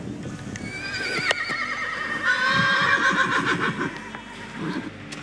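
Horses whinny loudly in a paddock near a round pen, with several drawn-out neighs overlapping and hooves clopping underneath.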